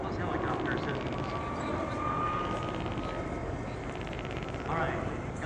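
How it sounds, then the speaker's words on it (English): McDonnell Douglas helicopter making a high-speed pass at about 152 mph at the 1993 Reno air show, a steady broadband rotor and engine roar throughout, with crowd or commentary voices under it. "now this helicopter will set up for a high speed pass, which for him is only 152 miles per hour."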